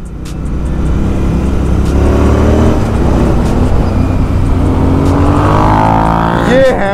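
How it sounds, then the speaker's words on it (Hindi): A Continental GT 650 motorcycle fitted with a Barrel Atom exhaust rumbles loudly and close inside a tunnel, its deep booming note rising through revs and echoing off the walls, with a voice briefly heard. "ये है वो एग्जॉस्ट"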